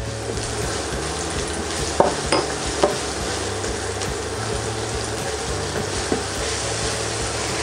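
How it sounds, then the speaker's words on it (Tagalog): Garlic and onions sauté in hot oil for squid-ink pancit, giving a steady close sizzle with a few sharp utensil clicks against the pan. "Igisa natin yung remaining na bawang at sibuyas."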